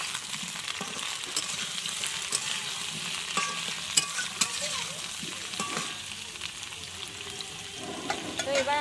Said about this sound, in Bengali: সেই আলুগুলো এবার দিয়ে আবার একসাথে ভেজে নেব